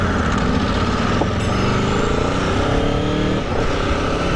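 A 2021 Aprilia Tuono V4 1100 motorcycle on a ride, its engine loud and close with a continuous rasping drone and shifting pitch as it pulls away.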